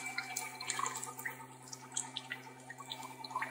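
Water slowly draining out of a condensate trap through a float-and-ball seat, heard as faint, irregular dripping and trickling at close range, steady for several seconds with no talking.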